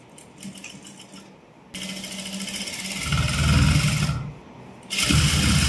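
An electric sewing machine stitches a silk blouse in sustained whirring runs, pausing briefly before starting up again loudly, with a steady mechanical rattle throughout.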